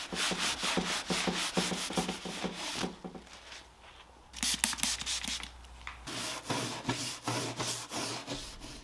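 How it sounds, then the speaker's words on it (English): A brass brush scrubs paint out of the etched areas of an antique oak dresser in quick, rhythmic rasping strokes, close up, with a short pause midway before the scrubbing resumes. "brass brushes still seem to work the best for removing the paint in all the hard-to-reach areas"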